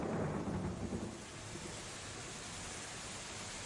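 A thunderstorm roars with a deep rumble of thunder at the start that fades into steady, hissing heavy rain, loud and continuous with no voices.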